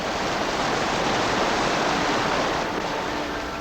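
Glacier meltwater rushing and dripping in Glacier Bay, Alaska, a loud, dense, unbroken wash of water noise that holds steady throughout with no voices.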